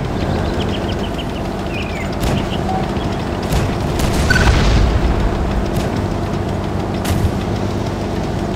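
KV-1 tank cannon firing in the video game Tank Legion, a deep boom swelling near the middle over steady low engine rumble, with faint battle noise around it.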